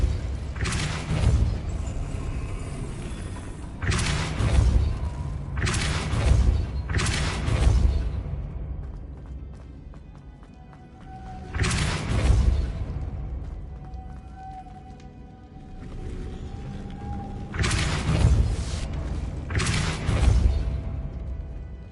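Incendio and Depulso spell blasts cast in the Hogwarts Legacy video game, heard as several loud, booming whooshes in bursts with short quieter gaps between them.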